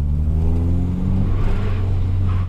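A Subaru Impreza STI tuned to 500 hp with an external wastegate revs hard on the road, a loud droning engine note climbing and then holding steady, close by and without voices.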